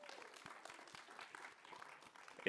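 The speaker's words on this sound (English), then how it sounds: "So let's give a major round of applause to everybody there." A conference audience at the BSidesSF 2023 closing ceremony gives a faint round of applause, a soft, even patter of many hands heard from a distance, with a brief loud knock at the very end.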